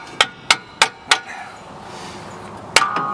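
A brass hammer strikes the rear brakes of a Chevrolet Silverado pickup, with four evenly spaced sharp metallic blows, a pause, then one more loud hit, close and unaccompanied by speech.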